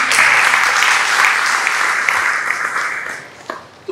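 A hall audience at a senior citizens' gathering breaks into loud, sustained applause to welcome Father Robert, a dense wash of clapping that fades slightly toward the end.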